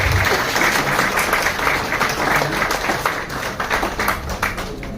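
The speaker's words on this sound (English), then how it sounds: "A warm round of applause" An indoor audience at a hospital institute inauguration claps in a sustained, dense round of applause that stays loud throughout before easing slightly at the end, with no talking.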